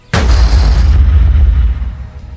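A bus rear tyre bursts on a rainy night road, one sudden loud bang up close followed by a booming rumble that fades over about two seconds.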